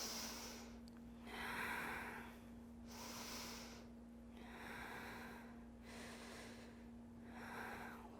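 Slow, steady breathing during a yoga balance pose, warrior 3: about six soft, airy inhales and exhales in an even rhythm, quiet and close, over a faint steady hum.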